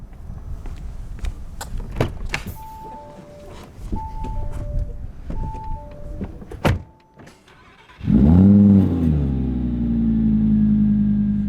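Clicks and a door thud, electronic chimes, then an Audi R8 GT engine fires up with a loud rev and settles into a steady idle.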